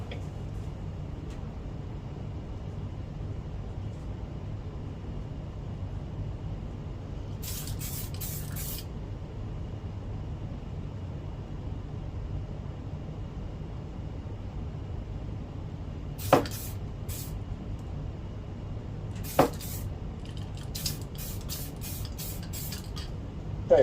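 DuraCoat aerosol spray can coating a 1911 pistol, several short hissing bursts of spray, some in quick repeated pulses, over a quiet room hum with a couple of sharp clicks.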